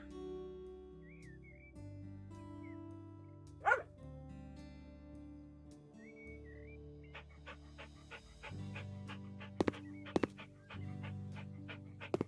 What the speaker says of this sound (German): Ich liebe meine Hündin.